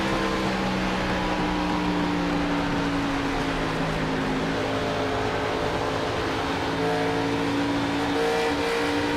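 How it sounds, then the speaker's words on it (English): An iRacing race car engine revving out of a corner as the throttle is eased up, a loud, steady whining drone with pitch climbing gradually, with no talking. "Here, I'm working that throttle up off the corner, trying to keep from lighting up those back tires."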